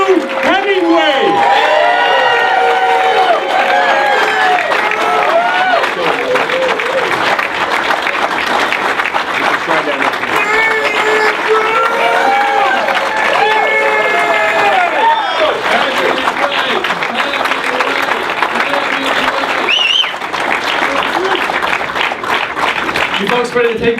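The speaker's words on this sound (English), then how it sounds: "a big round of applause for Andrew Hemingway!" Large crowd at a New Hampshire governor campaign announcement applauding and cheering loudly and continuously, with whoops and shouts rising above steady clapping for the whole stretch.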